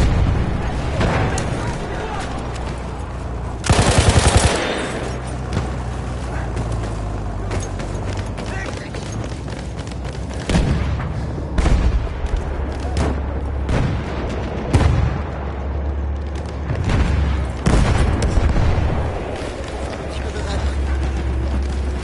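Grenade explosion in a PS4 video game, a loud low boom breaking out of dense, continuous battle noise, with further heavy blasts and gunfire following throughout.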